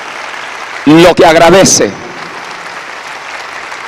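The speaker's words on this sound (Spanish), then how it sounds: "la República Dominicana reconoce con este aplauso" Applause from an audience in the Dominican Republic fills the background while someone speaks briefly over it in Spanish; the clapping continues as a steady wash after he stops.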